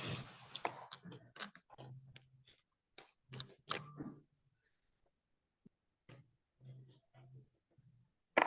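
Several people tap on computer keyboards during an online webinar, producing scattered bursts of sharp clicks separated by quiet gaps, with one loud clack at the very end.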